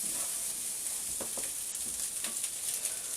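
Fried rice with beef and pork is stirred in a hot pan, a constant gentle sizzle with a few scraping clicks of the utensil against the pan, and no one speaks.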